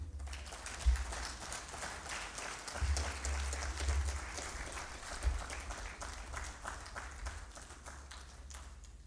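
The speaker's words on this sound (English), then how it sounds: "Please, another round of applause for our keynote speaker." Audience applause for a keynote speaker at a lecture and symposium, continuous clapping from a large crowd heard from some distance, steady throughout with a few low thumps.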